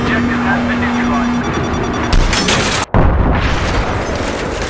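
Dense gunfire and booming explosions from an air superiority battle in Battlefield 3 at Nebandan Flats, loud and continuous with a brief dropout, while players talk over it.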